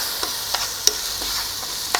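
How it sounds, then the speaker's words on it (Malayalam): Biryani rice stirred and fried in ghee in a pan, giving a soft, steady sizzle with a few brief scraping and stirring clicks, fairly quiet and without talk. "ഈ നെയ്യിൽ നമുക്ക് ഈ ബിരിയാണി അരി ഒന്നിങ്ങനെ ജസ്റ്റ് ഒന്ന് വറുക്കണം."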